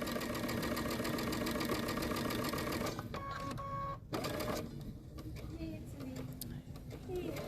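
A sewing machine stitches fabric at a steady fast pace, its motor whirring and needle chattering close up, with a brief pause and restart midway and someone talking over the stitching.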